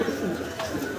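Cooing from a large pigeon kept in Gopalganj, a low rolling coo repeated through the moment, close and fairly loud with faint room noise behind it.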